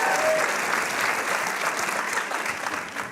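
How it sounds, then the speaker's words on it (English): A crowd claps in a dense, steady burst of applause that gradually thins out, filling the room for a few seconds. "Give him a round of applause."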